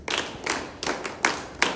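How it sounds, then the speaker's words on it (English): A classroom clapping for a pupil during a supported teaching lesson in a school: five separate bursts of hand claps, close and fairly loud, with no talking. "Let's clap for her."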